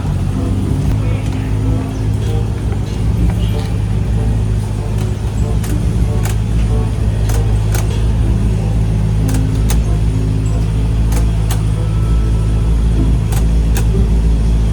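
A Honda Click 125i motorcycle engine idles with a steady, loud low rumble throughout, close by, with faint ticking and a few brief background voices.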